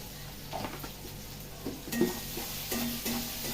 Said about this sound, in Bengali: পেঁয়াজটা একটু ভালো করে নাড়াচাড়া করে